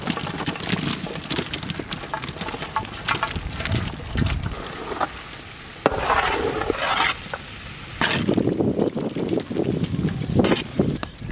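Fried chicken sizzling in a pan while being stirred with a utensil, a steady close crackle with scraping and clattering strokes throughout, in a home kitchen.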